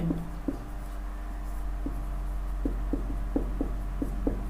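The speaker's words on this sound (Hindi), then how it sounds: "तो परिभाषा हम यही लिखेंगे, हम लिखेंगे" A pen or chalk writes a definition for a Hindi physics lesson on accuracy, giving a series of short, soft scratching strokes in an irregular rhythm over a steady low hum, with no voice.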